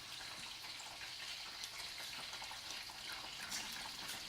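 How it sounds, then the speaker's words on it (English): Seasoned rice wine vinegar goes into a hot pan of drunken noodles, setting off a continuous bright hiss and sizzle that stays fairly quiet and even throughout the few seconds, with no voices. "So we are going to put some seasoned rice wine vinegar in it."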